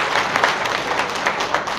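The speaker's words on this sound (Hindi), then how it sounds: "ताली बजाओ अपने लिए" An audience at an introduction and honour ceremony claps in a steady burst of applause, many hands together, close and continuous throughout.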